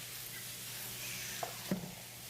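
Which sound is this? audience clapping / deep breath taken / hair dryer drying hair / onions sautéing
onions sautéing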